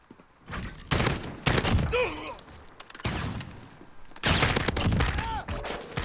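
Repeated three-round bursts from an M-16 rifle in Call of Duty Modern Warfare, sharp clustered shots in several groups, loud and close, with faint game sounds between volleys.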